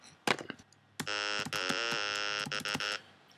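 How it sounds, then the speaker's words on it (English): Tal Electro, a free monophonic software synth, plays a short series of bright, buzzy sustained notes with sharp attacks and brief gaps, loud and close with no voice over it. "I will make a new instrument track and choose Tal Electro. It's a free monophonic synth."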